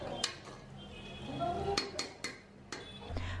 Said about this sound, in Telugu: ఇందులో 1/2 టీ స్పూన్ పసుపుని వేసి మిక్స్ చేసుకుందాం